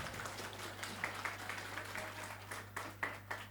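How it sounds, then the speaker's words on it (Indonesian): Audience applause for children at a monthly Islamic study gathering in Rancamanyar hall, a steady wash of clapping with a few louder bursts over a low hum, moderately distant. "Tepuk tangan buat anak-anak kita."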